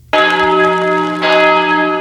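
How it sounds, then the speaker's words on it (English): A church bell in Montreal rings loud and close, one strong struck tone with a second strike about a second later, its ringing overtones sustained. "church bells rang across Montreal on Sunday as a symbol of hope and solidarity during the COVID-19 global pandemic"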